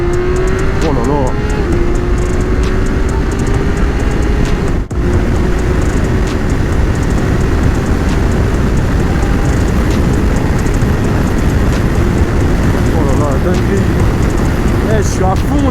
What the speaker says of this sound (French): on va se faire une petite pointe avec la K16 directement sur la ligne